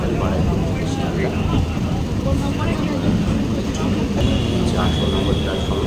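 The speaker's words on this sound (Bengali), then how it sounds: "8 নম্বর প্ল্যাটফর্মে ট্রেনটা প্ল্যাটফর্মে ঢুকছে।" A Baraipur–Sealdah local train rolls into platform 8 at Sealdah station, a steady, loud broadband rumble of wheels and carriages running without a break under faint background voices.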